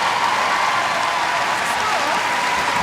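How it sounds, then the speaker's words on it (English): Sustained crowd ovation fills a netball arena, the M&S Bank Arena, during a New Zealand v Singapore match: steady broadband clapping and cheering throughout, loud and dense, with a commentator's voice faintly audible under it. "Great ovation from this crowd"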